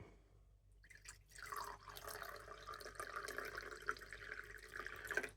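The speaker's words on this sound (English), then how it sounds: "this is distilled ocean water, which I am going to pour in this cup" Distilled ocean water poured from a container into a cup while making salt, a steady trickle and splash with small drips, close, without talking.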